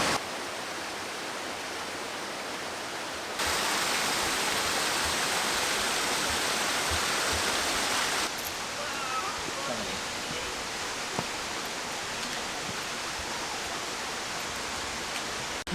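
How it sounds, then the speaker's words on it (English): The 220-foot Lady Exmouth waterfall in South Devon roars as a steady, dense hiss of falling water, close and continuous, swelling louder for a few seconds partway through before settling back. "Behind me is the 220-foot Lady Exmouth waterfall"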